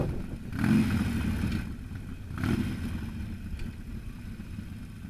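A Harley-Davidson Forty-Eight with a 1200cc V-twin rumbles close by, idling with a low, lumpy throb and swelling twice in short blips of throttle before easing back.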